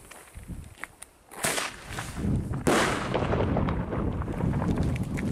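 Distant New Year's fireworks popping and cracking, a few scattered bangs at first, then a sustained rolling barrage of crackles and booms echoing from afar.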